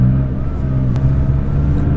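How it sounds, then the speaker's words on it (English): Golden McLaren 570 supercar driving in auto mode, a steady loud low engine drone with harmonic hum from inside the cabin, one brief click partway through. "So driving the golden McLaren"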